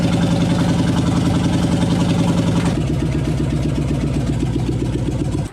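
The engine of a 1989 Chevy K2500 truck runs close by after a swap, a loud, steady rumble with an uneven, lumpy pulse that settles into a slightly different beat midway before cutting off.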